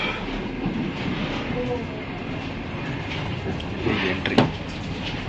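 A Russian long-distance passenger train on the Moscow to Murmansk route, heard as a steady rolling rumble from on board with a sharp metallic click near the end and faint talk in the background.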